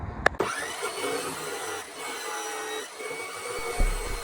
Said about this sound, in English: This saw will cut steel if it's clamped vertically.